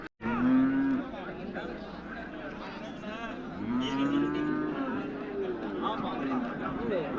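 Cattle low repeatedly at the M. Chettipatti livestock market near Salem: several long, deep moos rise and fall over a murmur of people talking and market bustle close by.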